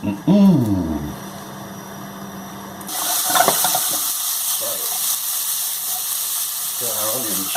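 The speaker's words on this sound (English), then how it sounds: "Got our onions sizzling away nicely." Onions sizzle in a hot pan as a steady, bright frying hiss that sets in after a voice and some kitchen clatter and keeps going, with speech at the start.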